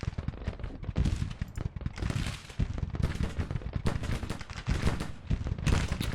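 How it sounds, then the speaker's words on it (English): Dense, continuous battle gunfire and cannon booms in the Civil War strategy game Grand Tactician, rapid overlapping volleys crackling at moderate volume with no pauses. "Okay, these cannons are firing."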